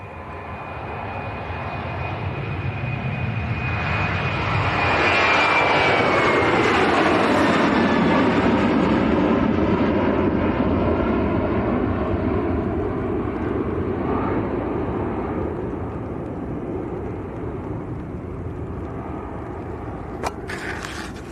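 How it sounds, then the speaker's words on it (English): Airliner engine roar at Leeds Bradford Airport, a loud sustained jet rumble that swells to a peak midway then slowly fades, heard alone without talk. "There's another aircraft lined up and ready to go as well."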